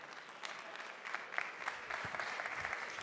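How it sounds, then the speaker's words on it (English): Audience applause with many hands clapping steadily throughout, moderately distant and filling the room, with no one speaking. "A big applause for Thorsten."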